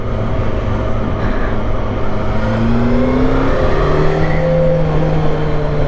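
A Yamaha FZ8 motorcycle engine revs up through the gears, pitch climbing steadily, with wind noise underneath and no talking.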